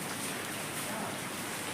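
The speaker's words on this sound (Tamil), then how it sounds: "நல்லாவே பெய்யுது இப்போ மழை." Heavy rain pours down outside in the Villupuram district, a dense, continuous hiss of drops striking surfaces at an even, loud level throughout.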